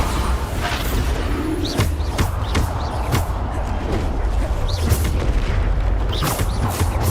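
Bombarda blasting spell explosions in the video game Hogwarts Legacy, several loud booms and crashes going off at irregular intervals over a continuous din of combat noise.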